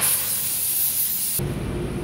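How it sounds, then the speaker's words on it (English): Brake cleaner hisses from an aerosol can onto a BMW E90 335i brake caliper in one continuous close spray, with the tone shifting abruptly partway through. "Spray it down with some brake clean."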